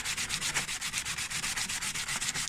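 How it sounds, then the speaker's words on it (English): Rapid, steady back-and-forth scraping of sandpaper over a plastic wheel trim from a Nissan Almera N16, close and continuous with an even rhythm. "It's obviously just sanding it down back to the next layer of plastic"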